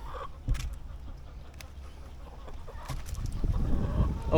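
Rhode Island Red rooster and chickens near banana plants, clucking and calling at a middle distance over steady low outdoor background noise, with a brief louder call near the start and busier fowl sounds toward the end.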